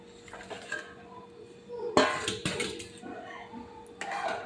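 Pabda fish going into a mustard gravy in a pan, a close rustle and sizzle with clinks of a utensil against the pan and a louder scraping burst near the middle.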